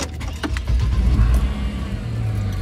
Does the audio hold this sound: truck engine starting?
yes